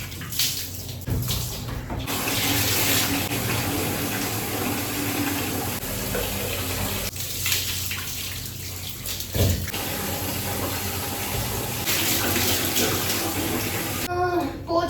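Water runs steadily from a tap or shower while a small pet dog is bathed, a loud continuous splashing stream with brief shifts and a pause near the end, someone speaking softly under it at times.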